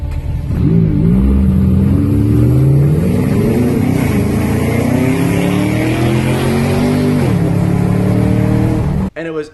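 A Camaro ZL1 and a McLaren 570S race on a rough street, engines roaring loud and close as they accelerate hard through rising gear pulls, with a brief shift dip and an abrupt cutoff at the end.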